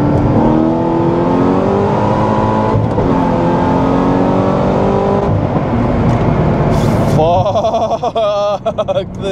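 Modded Corvette C6 ZR1 accelerating hard with traction control off, its engine roaring loud and close through rising gear pulls while the tires fight for grip, then a sharp shift and a burst of shifting rasp near the end.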